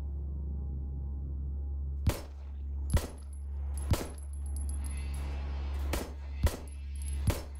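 Gunfire in the horror game SIGNALIS: six sharp, separate shots spaced about a second apart over a low steady hum, with faint metallic clinks between them.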